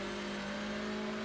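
An Elantra TCR race car in the iRacing game at Barber, its engine droning at a steady high pitch with a constant whine and no clear break for a gear change, heard briefly and alone.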